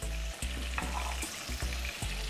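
Stuffed chicken, filled with bacon and cheese, sears in a hot pan with a steady close sizzle and a few brief clatters. Low rumbling bursts recur through the pan noise, and no one speaks.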